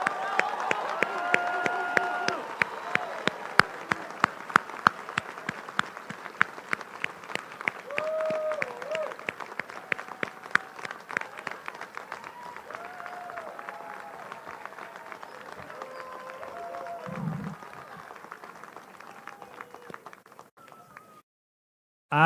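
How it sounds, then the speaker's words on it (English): Audience applause rings out at a Brazosport College 2024 commencement ceremony for the graduating class, a long steady round of clapping that fades near the end, with faint voices and some tonal sounds under it. "stand and face the guests for one last round of applause from the audience"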